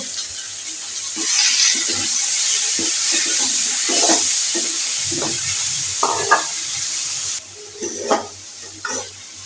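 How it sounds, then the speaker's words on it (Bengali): Water spinach stir-fries in a pan with fried chopped onion and garlic, giving a bright continuous sizzle broken by scraping stirs and soft clatter toward the end. "পেঁয়াজ রসুন আমার ভাজা ভাজা হয়ে গেছে এখন শাকটা দিয়ে দেব"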